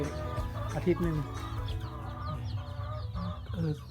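Chicks one to two weeks old cluck and chirp close by in a busy farm coop while someone speaks briefly over the birds.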